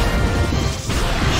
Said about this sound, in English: Shadow Ball hits.